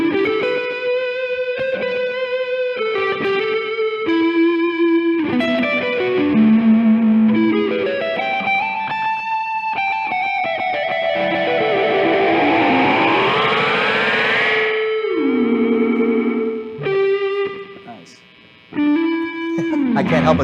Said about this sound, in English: Let me try the drive with the delay.